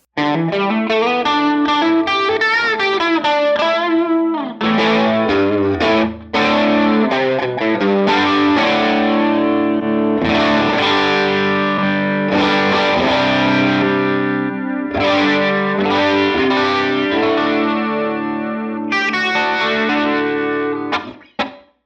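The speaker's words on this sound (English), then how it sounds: "you get this really long delay if you want" Distorted electric guitar played through a long-lag tape delay from a Helix ADT or Strymon Deco, chords and notes smearing into trailing repeats, loud and continuous with brief gaps.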